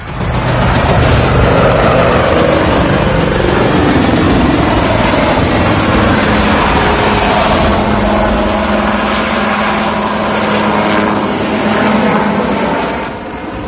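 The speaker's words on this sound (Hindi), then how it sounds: "ऊपर उठने के बाद हेलीकॉप्टर ने हवा में घूमना शुरू कर दिया और फिर सीधा ऊपर की तरफ हवा में ऐसे चढ़ा मानो किसी सीढ़ी पर जा रहा हो" HAL Light Combat Helicopter flying, turning and climbing at high altitude in the Himalayas, a loud sustained engine and rotor roar that holds steady for several seconds before easing slightly toward the end.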